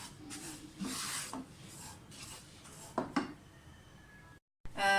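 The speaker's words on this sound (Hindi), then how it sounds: "सूजी हमारी भुन रही है।" Semolina with small cardamom seeds roasting in a pan while being stirred, giving soft, irregular scraping and rasping strokes, quiet and close, with a brief silent break near the end.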